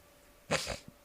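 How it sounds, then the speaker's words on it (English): A single short, breathy cat vocalization, a brief hiss-like growl, close and fairly quiet, followed by silence. "Sorry, that was my cat."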